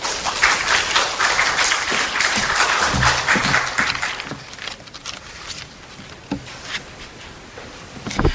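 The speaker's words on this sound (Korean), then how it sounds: "뜨거운 박수로 맞아주시기 바랍니다" A conference audience applauds to welcome the next presenter, a full burst of clapping that gradually thins into scattered claps and fades out.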